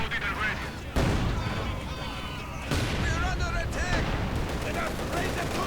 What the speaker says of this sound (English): 76mm gun firing away.